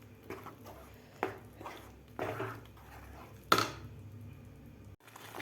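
Carrot paste being stirred over high flame in a large kadai, with a spoon or spatula scraping and knocking against the metal pan in a few sharp clinks and soft scrapes, close and moderately quiet.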